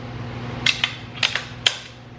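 A rifle bolt worked by hand with a tapered-cartridge action, giving a few sharp metallic clacks and clicks in two quick pairs followed by a single snap, close and crisp over a faint hum.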